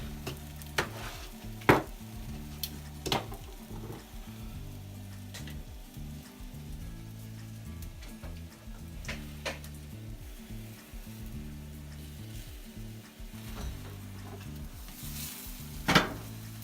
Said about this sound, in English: Got a few more pieces I can grill here when we're done.